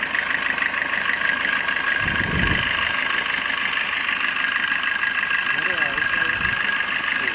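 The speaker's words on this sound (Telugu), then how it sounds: "ఇప్పుడు ఇంజిన్ స్టార్ట్లోనే ఉంది." A Maruti Swift Dzire ZDI diesel idles at a steady low drone, with a brief rev around the middle and a second stir near the end.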